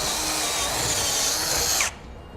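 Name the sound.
drilling a hole in a metal bracket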